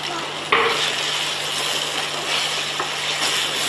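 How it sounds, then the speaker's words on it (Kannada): Onions frying in a pan, a steady close sizzle with a sharp stir or scrape near the start and light clatter of a spoon against the pan, no talking. "ಆನಿಯನ್ ಫ್ರೈ ಆಗ್ತಾ ಇದೆ"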